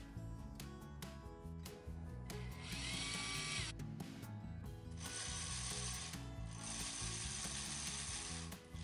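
A Lego powered-up motor drives the gears of a Batman bubble machine, making a steady ratcheting, whirring gear clatter that runs continuously, close but modest in level, with no voices.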